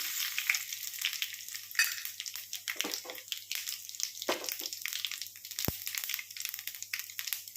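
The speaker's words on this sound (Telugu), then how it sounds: "ఆయిల్ అయితే హీట్ అయింది ఎండుమిర్చి ఆవాలు జీలకర్ర పప్పు పచ్చెనపప్పు తాలింపు వేసుకున్నాం" Crackling, popping sizzle of dried red chillies, mustard seeds, cumin and lentils frying in hot oil, with scattered sharp pops and a steady bright hiss, close by and without talk.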